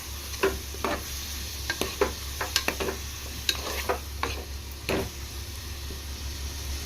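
Tomatoes sizzle in four tablespoons of hot oil for a village-style mutton curry with tamarind leaves and taro root. A steady frying hiss runs throughout, broken by repeated sharp scrapes and taps of stirring, close up.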